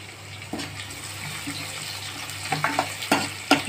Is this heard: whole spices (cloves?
yes